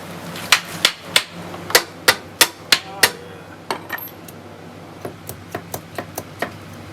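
A hammer strikes metal during an air-cooled VW Type 1 1600 engine rebuild, sharp ringing blows, a quick run of strikes followed by lighter, quicker taps.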